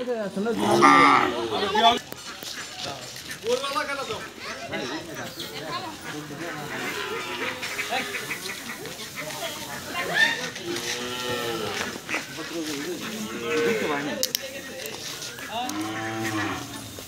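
Cattle moo repeatedly, loud and close, in long drawn-out bellows during a vaccination at an upazila livestock office and veterinary hospital, mixed with people talking and shouting nearby.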